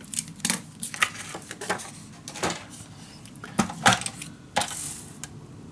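Scissors cut paper up to a fold line for a boxed mini album, producing a series of crisp, close snips at an irregular rhythm with quiet pauses between cuts.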